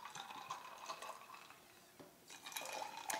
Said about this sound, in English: and then we're going to top it off with tonic